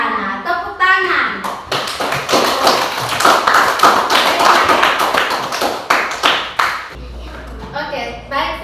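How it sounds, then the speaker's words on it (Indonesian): A classroom of children clap their hands together at a teacher's cue, a dense, loud burst of many overlapping claps lasting several seconds, with brief speech before and after. "Tepuk tangan."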